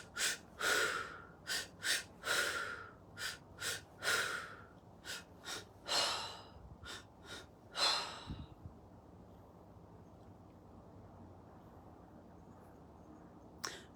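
Deep breathing during a breathwork exercise comes as a series of strong, breathy inhales and exhales in a quick, uneven rhythm for about eight seconds, then fades into quiet room hiss.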